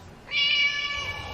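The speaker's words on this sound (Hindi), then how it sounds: "ये बिल्ली, ये तो वही बिल्ली है।" A cat gives a single drawn-out, fairly loud meow in a cold street at night, starting abruptly and trailing off over about a second against quiet background.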